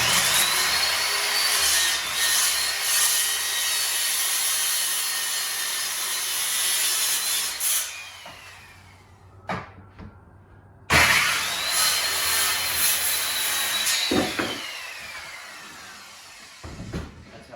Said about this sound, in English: cut the center section out of this box.